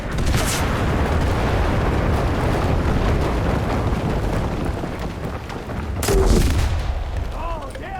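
Mortar explosions and battlefield gunfire in the video game Enlisted form a dense, continuous roar of blasts. A sharp, loud boom lands near the end, with faint voices briefly audible.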